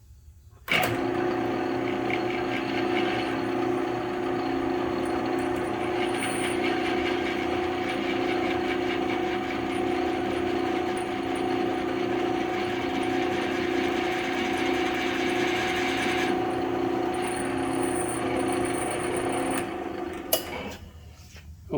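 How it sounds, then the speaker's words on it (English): A drill press steadily cuts a center-drilled hole in a Mopar 360 performance connecting rod, a constant mechanical whir with a faint rattle that runs unbroken for about twenty seconds before spinning down. "here we are on the last rod, drilling the last"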